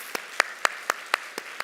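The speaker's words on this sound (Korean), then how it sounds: "여러분들 우리 박수로 격려합시다." A church congregation at Seattle Brethren Church's downtown Sunday worship claps in sharp, evenly spaced beats, about seven crisp claps in quick steady rhythm, close and clear with no talk over them.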